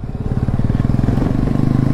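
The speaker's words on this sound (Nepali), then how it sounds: "रोसले नि बाइक फेरि बवाल चलाउँछ" A motorcycle ridden hard, its engine close and loud, throbbing in a fast, even rhythm of low pulses that holds steady across the whole stretch.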